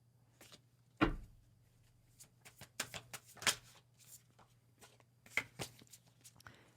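Tarot cards being shuffled by hand in a quiet room, a series of soft riffling and tapping bursts with one sharper slap near the start, faint and close, over a low steady hum.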